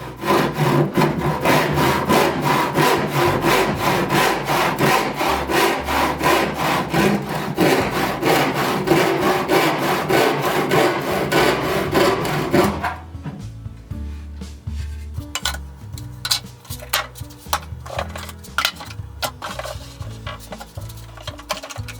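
Handsaw cutting through a wooden board for a simple bedside table, steady rapid strokes loud and close, then a slower, rougher stretch of scattered scraping strokes as the cut is finished.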